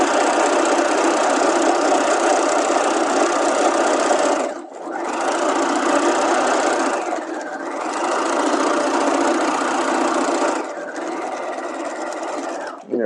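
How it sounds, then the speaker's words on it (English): A sewing machine stay stitches along a garment waistband at a half-inch seam allowance, running in steady close bursts with two brief pauses between sewing runs. "we're stay stitching the side that does not have those extra notches on it, and we'll stay stitch it at the seam allowance"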